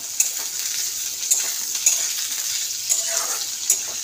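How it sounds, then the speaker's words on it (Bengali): Onions sizzle in hot oil as the base for a fish curry: a steady close frying hiss, broken by regular sharp spatula scrapes and clinks about once a second, with no voices. "পেঁয়াজটা একটু ভাজা ভাজা হোক।"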